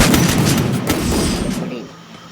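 Gunfire in the Lone Wolf shooting game, a loud cluster of sharp booming shots over about a second and a half, then a quick fade to near silence.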